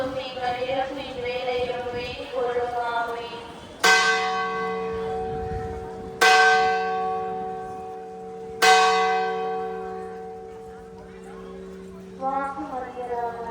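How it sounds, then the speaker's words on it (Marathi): A large temple bell at Velankanni is struck three times a couple of seconds apart, each loud clang ringing out and slowly fading, with people talking nearby before and after. "आता आपली देवळाची घंटा वाजवत आहेत"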